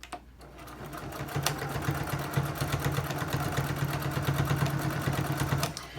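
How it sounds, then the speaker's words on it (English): A straight-stitch-only quilting sewing machine back stitching a fabric mask, a steady, rapid, close mechanical whir that runs for several seconds and stops near the end. "And then I sew down, back stitch a little, and then turn the mask"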